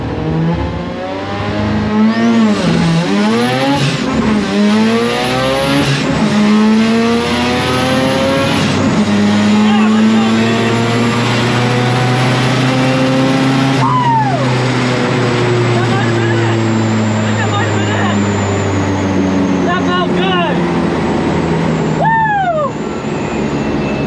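A loud drag car engine on pump gas roars and revs hard through rising gear shifts, accelerating at full throttle down a drag strip for a long run, close and sustained.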